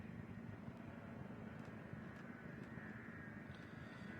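A spaceship's thrusters in Elite Dangerous give off a steady, faint, low rumbling hum that holds evenly throughout, broken by a few soft clicks.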